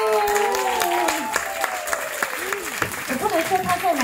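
Concert audience in Singapore applauds during a singer's thank-you speech, a dense continuous patter of clapping that carries on beneath her talking voice.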